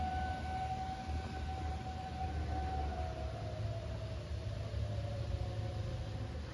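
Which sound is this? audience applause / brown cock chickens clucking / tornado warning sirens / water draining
tornado warning sirens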